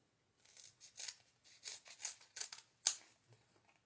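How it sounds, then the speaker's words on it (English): Scissors snipping through a foam adhesive sheet for a papercraft snowman tag, a series of quiet, close crisp cuts in short bursts with a sharper snip near the end. "I'm going to use the adhesive sheet, because then I can just cut a couple pieces."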